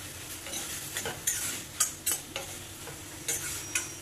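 Broccoli with Maggi masala is stirred in a pan, soft faint sizzling under a series of separate scraping and clinking spoon strokes against the metal.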